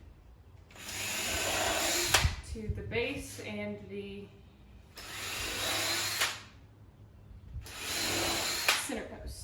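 Power drill driving screws into a wooden pedestal table base: three sustained whirring bursts, close and loud, with someone speaking briefly between them.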